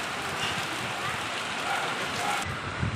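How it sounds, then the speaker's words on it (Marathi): Dense, steady hiss of heavy rain pouring down close by, constant and loud throughout with no break. "काय पाऊस पडतो"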